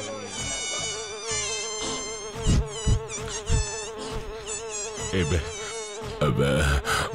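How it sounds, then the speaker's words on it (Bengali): A cartoon housefly buzzes close and loud, its whining drone wavering in pitch as it darts about, with a few soft thumps and effects around it. "মাছিটা আবার কোথা থেকে এসে জুটলো?"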